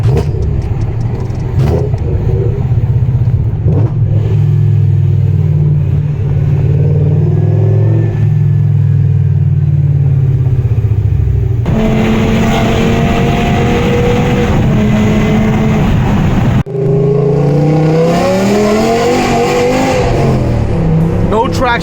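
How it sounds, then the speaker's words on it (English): A BMW E60 M5 V10 fitted with Evolve headers roars on a trackday at Buddh International Circuit, holding a loud, sustained engine drone before sharp rev-matched downshift blips crackle near the end, with talking mixed in. "Listen to those downshifts"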